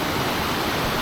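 Water pours down Nant Melyn waterfall in a dense, even rush of white noise, close and unbroken for a short moment.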